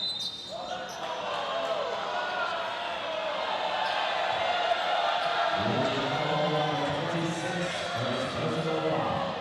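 A packed basketball arena crowd at a 2018-2019 ASEAN Basketball League game between Westports Malaysia Dragons and Formosa Dreamers reacts to a referee's foul call, a sustained roar of voices that swells partway through, with sneakers squeaking and a commentator talking over it.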